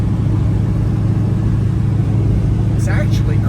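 A Hemi-powered Dodge Dakota pickup runs with a steady, loud low rumble heard from close by, its engine note even and unbroken, with a brief faint voice near the end.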